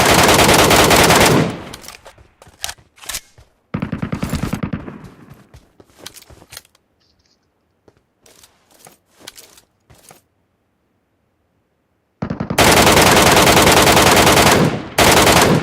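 Gunfire in the mobile game PUBG Metro Royale: long loud bursts of automatic fire open and close the stretch, with scattered single shots and short volleys in between and a near-silent gap in the middle.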